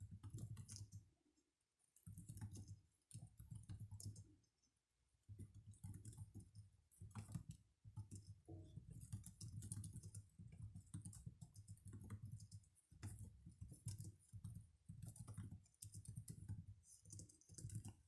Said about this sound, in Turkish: Ben bilgisayar yazıyorum şu anda.